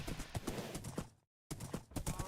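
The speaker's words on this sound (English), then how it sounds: "Yeah, this is the horse. Nice fast horse." Rapid rhythmic horse hoofbeats clip-clopping at a gallop in Minecraft, fairly close, with a brief total dropout of sound midway before the trotting resumes.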